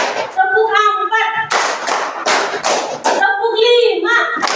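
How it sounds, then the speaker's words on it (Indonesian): Children in a classroom play a counting clapping game, with bursts of rhythmic hand claps alternating with a teacher's chanted counting. "tepuk 1, tepuk 2. Ayo kita belajar. Tepuk 1, tepuk 2, tepuk 3,"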